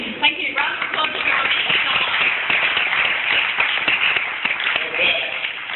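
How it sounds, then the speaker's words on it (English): Audience applause at a United Nations International Day of Peace event, a dense steady clatter of many hands throughout, with voices mixed in over a bandwidth-limited line. "Round of applause for"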